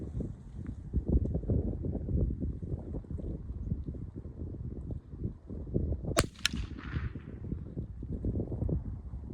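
Two sharp, close .22 Long Rifle gunshot cracks in quick succession stand out above steady wind rumble buffeting the microphone; no talking.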